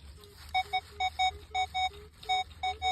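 A metal detector sweeping a hillside dig site repeats sharp, high beeping tones in quick paired bursts over a steady low hum, each beep clear and close.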